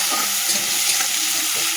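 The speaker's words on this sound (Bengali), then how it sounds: "পেঁয়াজটা ভাজা হোক" Chopped onions fry in a pan over black cumin tempering, a loud, steady, close-up sizzle with crackling and light stirring throughout and no voices.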